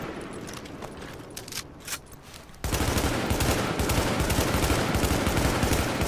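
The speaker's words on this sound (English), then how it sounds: "I'm getting some shots off on him." Gunfire in the video game The Division: sparse scattered shots at first, then a sudden switch to loud, sustained rapid automatic fire that keeps going to the end.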